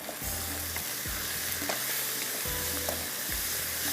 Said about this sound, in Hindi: अब इसको हमने ज़रा सा भूना